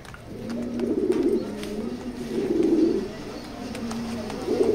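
Racer pigeons coo in a loft, low throaty rolling calls rising and falling in three swells, fairly close, with faint background clatter.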